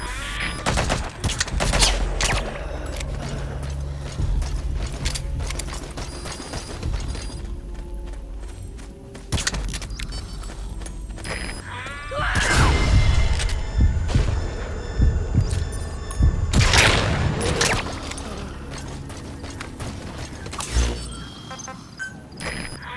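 Gunfire from the stealth action game Metal Gear Solid V: The Phantom Pain, scattered bursts and sharp shots over a low rumbling game soundtrack, with denser clusters of fire near the middle and toward the end.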